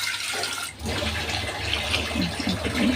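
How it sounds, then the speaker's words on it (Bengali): Steady broadband rush of running water, like a tap pouring over a bowl while small fish are rinsed and cleaned in a home kitchen, continuous and fairly close with no talking. "এই যে ছোটো মাছগুলো আছে ধুয়ে নিই পরিষ্কার করে নিয়ে সুন্দর করে"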